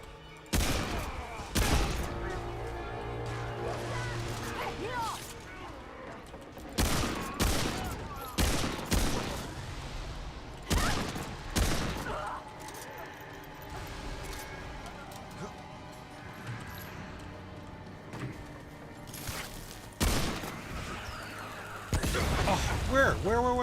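A lever-action gun fires in a post-apocalyptic video game: loud, sharp shots come one after another at uneven gaps through a long stretch of gunfire, with someone talking between the shots.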